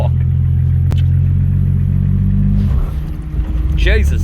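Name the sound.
drift car with RB30 engine revving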